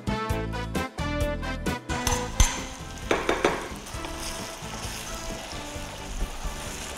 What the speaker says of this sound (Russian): Обжариваем томат.